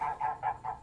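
Four quick nasal goose honks in a row, moderately distant and fairly faint.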